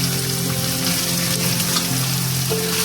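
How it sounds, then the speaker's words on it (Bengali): Chicken pieces dropped into a pan of sizzling mustard-oil garlic masala give a loud, steady frying hiss that holds through the whole moment, close by, with no talk over it. "এবার দেখো আমি চিকেনগুলো অ্যাড করে দিচ্ছি এর মধ্যে"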